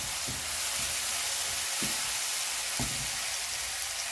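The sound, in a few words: onion frying in a pan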